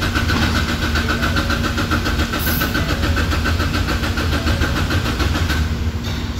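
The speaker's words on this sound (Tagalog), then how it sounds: "So ikakrank ko ngayon sa sasakyan." A Ford Taurus 2.0L engine cranks over without catching, a loud, close, steady rhythmic churning of the starter that runs unbroken for several seconds with no voices over it.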